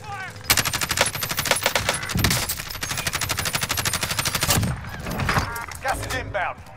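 Rapid automatic gunfire in Call of Duty Warzone, dense bursts of shots rattling almost continuously for several seconds, with players talking over the shooting.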